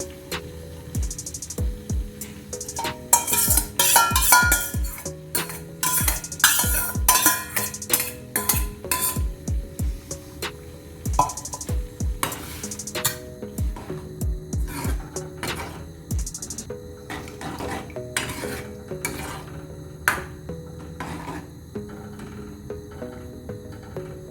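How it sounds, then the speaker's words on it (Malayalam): A spoon scrapes and clinks against a metal pot in an irregular rhythm as curd is poured in and stirred for an ash gourd curry, with occasional sharper knocks. "ഇനി ഇതിലോട്ട് നമ്മൾ തൈര് ഒഴിച്ചു കൊടുക്കാം."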